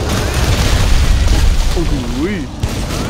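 Weapon fire and blasts ring out during an Uragaan hunt in Monster Hunter World, a heavy rumbling boom rolling on for a few seconds while a player exclaims loudly over it.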